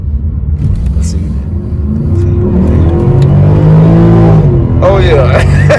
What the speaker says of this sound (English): Man, that big truck moving.